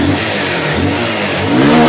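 A motorcycle engine with a newly replaced starter brush and a rebuilt motor catches and runs, a loud, steady close-up idle that rises slightly at the end; no one speaks.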